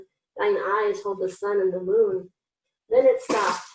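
A single sharp sneeze bursts out near the end of a read-aloud story, following a stretch of calm narration and a brief pause, loud and close.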